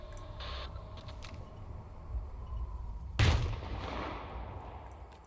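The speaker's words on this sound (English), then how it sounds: "An explosion." An in-game explosion in S.T.A.L.K.E.R. 2 goes off as one sudden, heavy boom and fades into a rumbling decay over a low background ambience.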